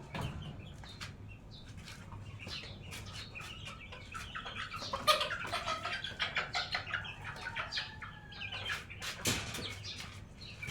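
Backyard chicks cluck and peep softly in a quiet outdoor setting, their brief chirps scattered across the stretch and growing busier in the middle.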